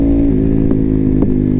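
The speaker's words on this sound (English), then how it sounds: "Hopefully the audio is coming off well enough so you guys can hear that exhaust." A Ducati 848 Evo motorcycle with a Termignoni exhaust runs steadily and loud up close, its deep engine note holding with a brief blip of revs twice in under two seconds, no talk over it.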